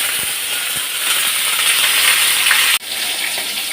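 Kochur loti (taro stolons) being washed under running water, a steady broadband rush and splash that continues nearly without a break, briefly cut off once near the end before resuming.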